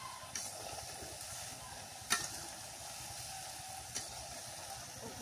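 Taro leaves, dried fish and potatoes fry in a wok with a steady, even sizzle, broken by a few sharp clinks as the food is stirred. No one speaks.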